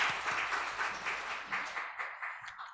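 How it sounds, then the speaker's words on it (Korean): A church congregation claps together in welcome during a Sunday service, steady rhythmic applause of many hands at moderate distance that thins and fades out toward the end. "박수로 환영하겠습니다."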